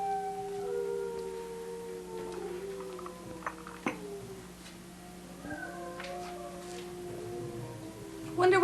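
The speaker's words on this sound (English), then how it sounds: "Listen to those dogs howling." Several dogs howl in long, wavering, overlapping tones at night, fairly distant with a steady low hum underneath, and a brief voice breaks in near the end.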